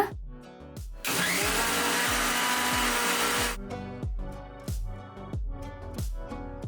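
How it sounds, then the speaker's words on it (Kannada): A kitchen mixer grinder whirs loudly for about two and a half seconds while grinding a coconut, ginger, green chilli and whole-spice masala with a little water for egg biryani, framed by sharp thuds and clatters before and after. "ಇದನ್ನಿವಾಗ ಮಿಕ್ಸಿಗೆ ಹಾಕೊಳ್ಳೋಣ"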